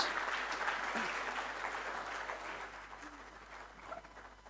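An audience at the Merck Foundation Africa Asia Luminary 2025 event applauds the First Lady of São Tomé and Príncipe, a sustained round of clapping in a large hall that slowly tapers off.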